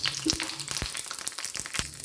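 Coconut oil sizzles steadily in a frying pan, a bright continuous crackle with occasional louder pops and a few soft clinks of a utensil, close up and with no voices.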